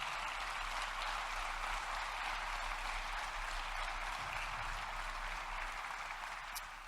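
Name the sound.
applause in a church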